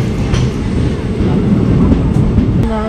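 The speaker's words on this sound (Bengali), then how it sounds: "আমাদের ট্রেন এখন এটা কি আজিমগঞ্জ জাংশনে প্রবেশ করে গেছে" The 13466 Intercity Express rolls into Azimganj Junction in the rain, a loud close rumble of wheels and carriages with faint clacking and rattling throughout.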